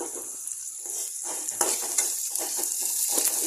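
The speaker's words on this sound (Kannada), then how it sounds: "ಸ್ವಲ್ಪ ರೆಡಿಶ್ ಬರುವಂಗೆ ಫ್ರೈ ಮಾಡ್ಕೊಳ್ಳೋಣ" Onions frying in a pan until reddish, a soft continuous sizzle broken by several stirring scrapes of a spoon, fairly quiet and close, no talking.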